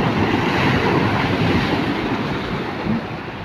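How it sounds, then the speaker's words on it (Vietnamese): Heavy surf and gusting wind roar steadily along a shore, loud and close, with a dense continuous wash of breaking waves and buffeting wind on the microphone, easing slightly near the end. "ngày hôm nay sóng gió đang ập đến"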